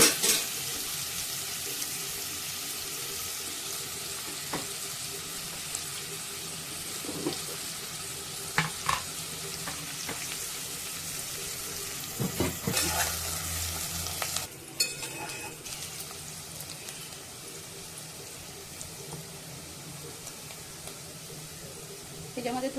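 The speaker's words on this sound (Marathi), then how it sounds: "तेजपत्ता, कांदा लाल करून घ्यायचा।" Bay leaf and onion sizzle steadily in a hot pan for mundi, with scraping stirs and occasional clinks of a spoon against the metal, while faint talk sits in the background.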